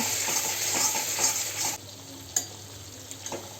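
Spiced soybean curry masala sizzles and fries in a pan with scraping stirs, loud steady sizzle for the first half, then quieter with a few sharp utensil clinks.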